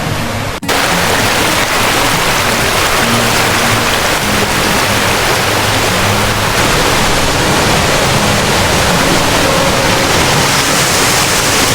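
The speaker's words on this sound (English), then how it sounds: "This is one of the closest waterfalls we've been to yet." Close-range waterfall at Plitvice Lakes National Park in Croatia, roaring as a steady, loud broadband rush of falling water that holds unbroken and alone for the whole stretch.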